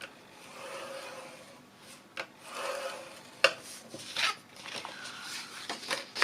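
Scoring tool dragged along paperboard for a box bottom, giving a series of close, soft scraping and rasping strokes with a few sharper ticks, uneven in rhythm and without talk.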